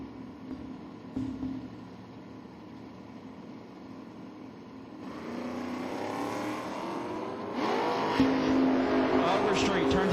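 Drag race cars, a LeBaron against a Mustang, roar off the line at a bracket elimination, engines swelling from a steady rumble into loud rising revs over the last seconds, with an announcer talking over them.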